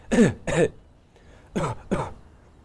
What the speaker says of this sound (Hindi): यदि आपको बदलते मौसम की खांसी है इस तरह की आवाज़ बार बार आती है